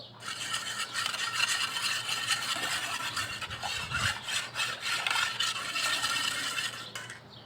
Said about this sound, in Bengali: কনডেন্স মিল্ক দিয়ে দুধের সাথে খুব ভালো করে মিশিয়ে নেব